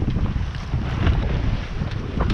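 Fresh wind buffeting the microphone aboard a Contessa 26 sailboat heading north east across the Atlantic from Terceira, a loud continuous roar blended with water rushing along the hull.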